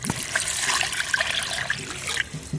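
Running water splashes steadily over a large dried hilsa fish as it is rinsed by hand, a continuous close wash with small splashes and trickles throughout.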